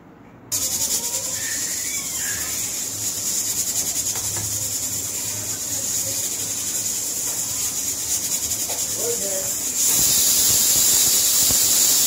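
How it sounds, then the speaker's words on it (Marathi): A pressure cooker on the stove lets off its first whistle while veg pulao cooks: a steady, close hiss of escaping steam that swells louder and brighter near the end, with no voices. "या ठिकाणी पहा कुकरची शिट्टी होत आहे आणि ही पहिली शिट्टी आहे."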